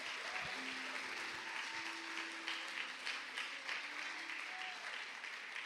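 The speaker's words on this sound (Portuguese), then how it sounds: "Dá um aplauso a Jesus" A church congregation applauds steadily through the whole moment, a continuous wash of many hands clapping, fairly faint and at a distance.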